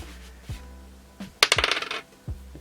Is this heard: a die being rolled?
yes